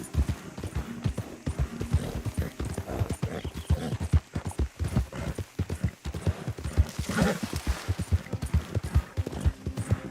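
Horse hooves clip-clop in a rapid, steady galloping rhythm in Red Dead Redemption 2, loud and close, with a brief spoken voice and a faint whinny mixed in.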